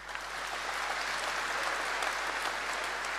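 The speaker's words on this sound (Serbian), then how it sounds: "Veliki aplauz za njih." Broad, steady applause from an outdoor political rally crowd in Sremska Mitrovica after the national anthem, a dense continuous wash of clapping heard at some distance, fairly soft and unbroken throughout.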